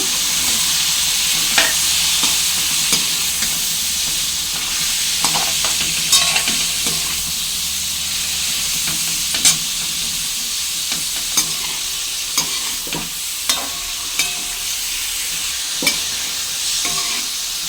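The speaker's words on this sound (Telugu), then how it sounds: "లివర్ ముక్కలు వేసుకున్నాక మిక్స్ చేసుకుందాము." Mutton liver pieces sizzling in a pan while being mixed, a loud steady fry hiss punctuated by regular spatula scrapes and knocks against the pan, with no voices.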